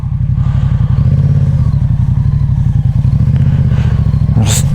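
A motorcycle rides off-road over wet, slippery clay, its engine chugging in a rapid, loud, close rhythm with clattering and thuds, ending with a brief sharp scrape or splash.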